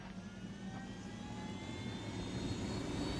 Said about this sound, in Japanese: 機銃ついてるじゃん、このヘリコプター。